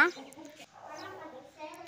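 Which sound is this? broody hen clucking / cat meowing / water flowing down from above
broody hen clucking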